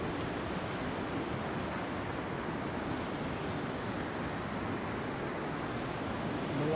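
Powerful rushing river water, swollen after rain, roars continuously and evenly by a hanging bridge at a dam, a dense broadband torrent close by with no speech over it.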